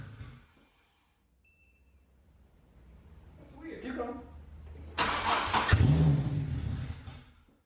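A car that sat unused for a week cranks and its engine catches, rising into a rumbling idle after a quiet stretch, with people talking nearby.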